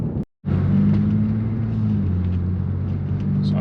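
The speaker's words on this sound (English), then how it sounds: "I'm not sure if the camera's picking up the road noise, but for a Lexus IS250, it's not bad." Steady low rumble of road noise inside a Lexus IS250 sedan while driving, a continuous drone with a brief dropout near the start, no talking.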